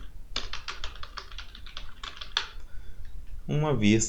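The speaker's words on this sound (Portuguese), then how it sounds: "Nós vamos colocar um texto aqui e vamos digitar" Typing on a computer keyboard while entering text in SolidWorks, a quick run of close, crisp key clicks, followed by someone speaking at the end.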